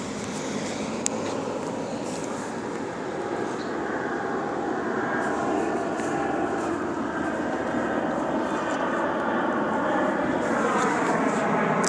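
Commercial airliners fly overhead in Upland, producing a sustained broadband engine rumble and roar that slowly shifts in tone over several seconds, with no talking.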